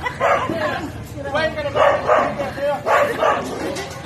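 A dog barks and yips repeatedly in short bursts, fairly close, with a person's voice mixed in among the barks.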